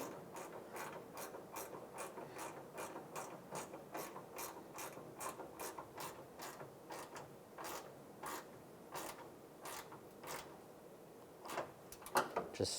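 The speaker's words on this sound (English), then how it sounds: "take the 10mm ratchet wrench and we'll just snug this bolt down" A 10mm ratchet wrench tightening a bolt while a 2007-2013 Chevrolet Silverado headlight wiring harness is replaced, giving a steady run of quick, close pawl clicks that keeps going for the whole stretch, with no talking over it.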